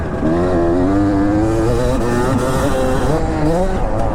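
An old two-stroke dirt bike engine held at high revs, a loud, buzzing, continuous whine that wavers slightly in pitch as the rider rides it hard.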